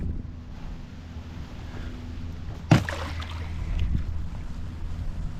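A ProBoat radio-controlled boat with an Oxygen Marine propeller runs on open water, its motor a steady low drone under wind noise and waves, with a sharp knock midway.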